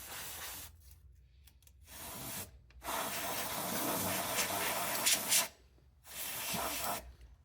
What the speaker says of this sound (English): About out of freeze spray here.